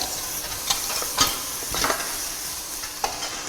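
Ginger garlic paste sizzles and fries in a pot for sheep head curry while a spoon stirs it, steady close frying hiss with several sharp scraping clinks of the utensil against the pot.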